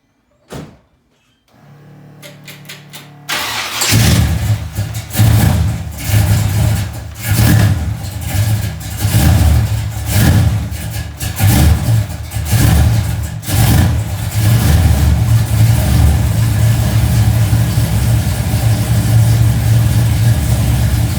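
Big block Chevrolet Caprice engine with a fresh rebuild. A starter cranks briefly, then it fires into a loud lumpy idle with repeated throttle blips and revs, and settles to a steady rumble.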